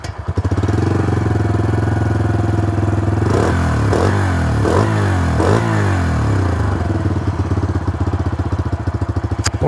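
A Bajaj Freedom 125 CNG motorcycle engine running close by, idling with a deep, throbbing base note, then revved several times in quick rising bursts before settling back to a steady idle.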